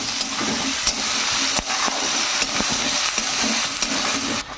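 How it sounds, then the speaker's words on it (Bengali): Onion, chili, ginger and garlic frying in a pan while making chickpea greens, a steady loud sizzle with occasional stirring scrapes and clicks. "এবার একটু লাল করে ভেজে নেব পেঁয়াজ মরিচ আদা রসুন সব কিছুতে"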